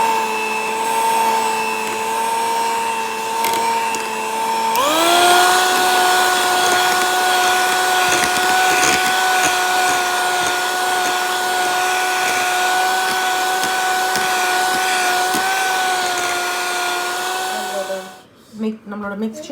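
An electric mixer whirs steadily while beating cake batter for a tea cake, a loud sustained motor hum that shifts up in pitch after a few seconds, then stops near the end.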